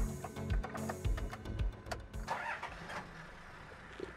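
A Toyota Land Cruiser Double Cab, 2021, with manual transmission, turned over with a key: a short burst of starter cranking and clicks that catches into an engine running close by, alone with no talk.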